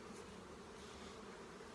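Honey bees buzz steadily at a hive, a soft continuous drone with no breaks and no voices over it.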